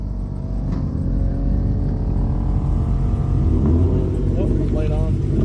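A twin-engine drag race car, the Suicid3 MX3, makes a ten-second pass, its engines roaring loud and steady throughout, with the pitch climbing toward the end.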